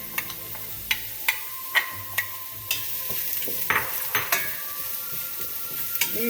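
Mushrooms added to a pan of frying garlic for leek mushroom soup, a soft sizzle under repeated sharp clicks of a utensil stirring and tapping the pan about once a second, close and fairly quiet.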